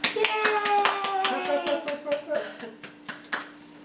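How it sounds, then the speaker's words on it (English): Hands clap in a quick burst of sharp claps at a first-birthday cake moment, the claps thinning out toward the end while voices talk and cheer over them. "Clap, clap, clap."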